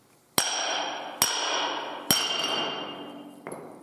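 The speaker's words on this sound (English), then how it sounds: "After it had cooled, I dumped out the mold and broke off the excess aluminum at the top." Excess cast aluminum is broken off the top of a knife-handle mold: four sharp metallic strikes, three loud and evenly spaced, then a softer one, each leaving a bright ringing tail.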